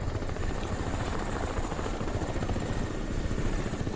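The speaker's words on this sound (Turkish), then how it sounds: "Helikopter mi geliyor? Ne geliyor?" Helicopter in Crysis Remastered, a loud continuous rotor thump and engine drone filling the scene steadily without talk.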